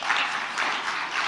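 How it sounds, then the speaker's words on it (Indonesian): A crowd applauds steadily, dense clapping rising and falling slightly in waves, moderately loud and without talk. "Tepuk tangan."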